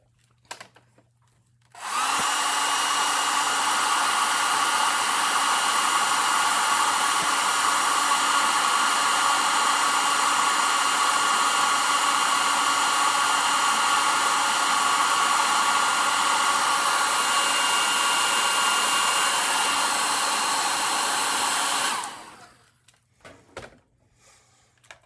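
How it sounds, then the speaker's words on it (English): A hair dryer blows steadily and loudly for about twenty seconds, drying a watercolor painting, with a clear start and stop and no talking. "I'm tempted to get a hairdryer in here, and maybe I can for some of them."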